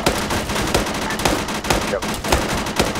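Gunfire in the military game ArmA 3 during an Australian co-op operation: a rapid, irregular series of loud, close shots and bursts cracking every fraction of a second with no pause.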